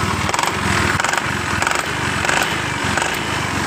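A Yamaha Mio scooter engine idles close by, a loud, steady buzzing putter with a fast, even firing rhythm and no voices.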